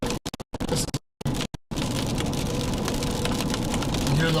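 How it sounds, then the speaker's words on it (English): Freezing rain mixed with ice drops pattering steadily on a truck during a Dallas–Fort Worth ice storm, a dense continuous patter after a few choppy broken moments at the start. "Oh, this is rain. This is the ice. This isn't sleet."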